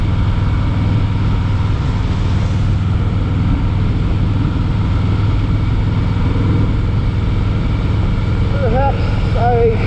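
A 2013 Harley-Davidson FLSTN Deluxe V-twin with a lowering kit rumbles steadily on a wet road, low engine drone and wind noise constant throughout, with brief squeaky tonal chirps near the end.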